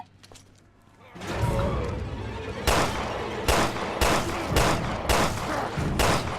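Repeated gunshots ring out in Resident Evil Revelations 2, a rhythmic series of about six loud, sharp bursts at close range, after a quieter lead-in.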